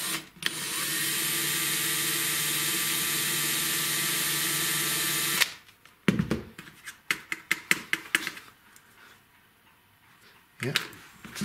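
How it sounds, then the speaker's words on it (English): A small drill runs steadily and close as it cuts out a rivet on a Tri-ang Super 4 diamond crossing, then stops, giving way to scattered clicks and taps of handling the metal track piece. "Just going to let the drill do the work."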